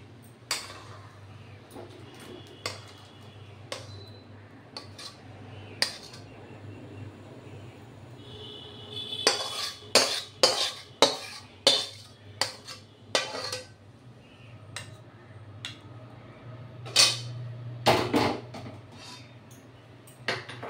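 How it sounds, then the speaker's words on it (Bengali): Cooked ridge gourd with poppy seed paste being poured from a wok and served onto dishes, with intermittent metallic clinks and scrapes of utensil against pan and plate, clustered in bursts over a quiet background, no talking. "এবার আমি কড়াই থেকে ঢেলে সার্ভ করছি"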